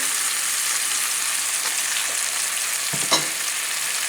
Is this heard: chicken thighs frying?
yes